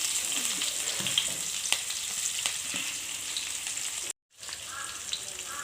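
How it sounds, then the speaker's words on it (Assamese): Chopped onion and ginger sizzling in hot oil alongside fish, a steady close crackling hiss with occasional pops and stirring clicks, briefly cutting out near the end before resuming. "এতিয়া মই সৰু সৰুকৈ কাটি থোৱা পিঁয়াজটো ইয়াত লাহেকৈ দি দিছোঁ আৰু আদাটোও দি দিছোঁ"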